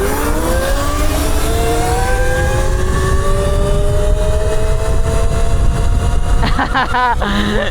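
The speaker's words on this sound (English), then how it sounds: "We're gonna do a top speed run right now when the batteries are fully charged" A Qronge X1 Spark mini electric motorcycle on a fully charged top speed run, its motor whine climbing steadily in pitch over loud wind rush, with a second rising whine near the end and voices in the background.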